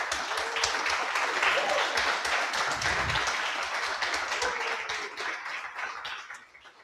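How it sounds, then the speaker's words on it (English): Sustained applause from a tech bootcamp demo day audience fills the clip, steady and dense, with a voice faintly under it before it fades at the end. "So I want to hear lots of applause."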